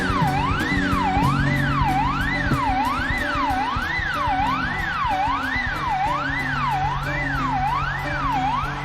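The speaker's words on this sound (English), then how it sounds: "he's got it on kind of like a siren back and forth thingy that just goes automatically" Electric guitar run through an automatic siren-like pedal effect in a live song, a steady rising-and-falling wail cycling evenly over drums and band, loud and continuous.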